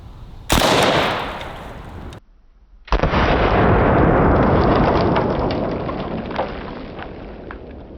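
An AK-47 fires 7.62x39 rounds at body armor on an outdoor range, with two loud, sharp reports, each followed by a long rolling echo.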